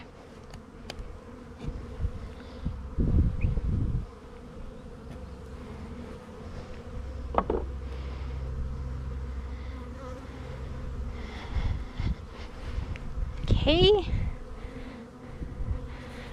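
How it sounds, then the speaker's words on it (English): Honey bees buzz steadily around an opened nuc box of five frames, a continuous close droning hum with louder passes near the ear, while a person speaks briefly. "It should have 5 frames full of bees ready to get to work and grow into a full hive."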